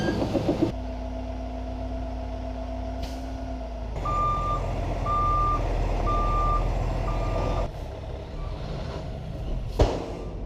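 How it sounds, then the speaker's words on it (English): Dump trucks hauling about 28 tons of dirt each rumble loudly at a dirt-moving site, with a steady reversing beeper pulsing in a regular rhythm over the engine drone and a sharp air-brake hiss near the end. "These trucks can haul about 28 tons of dirt."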